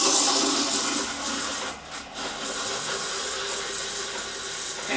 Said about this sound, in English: That little hole that I mentioned on the steam tip needs to be right at the surface of the milk.